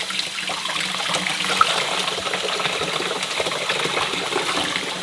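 Water runs steadily into a rice washer gadget while rice is rinsed in a kitchen, a continuous splashing gush with small clinks, close and moderately loud, no talk.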